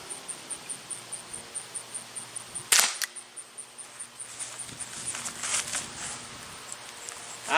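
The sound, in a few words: Walther CP99 Compact air pistol shot over a chronograph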